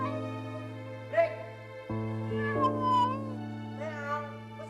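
A cat meows a few times indoors, with drawn-out, wavering cries over a steady humming background, moderately close.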